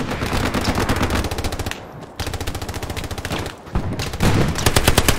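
A machine gun in Hell Let Loose fires long, rapid, loud bursts with only brief pauses, the regular shots continuing almost without a break.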